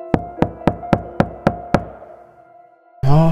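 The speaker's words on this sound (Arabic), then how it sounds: "غادي يقطع الصوت ديال التقرقيب دقان ديال الباب" Seven evenly spaced, loud knocks on a door at night ring out as a story sound effect, then a brief pause before another sound abruptly cuts in.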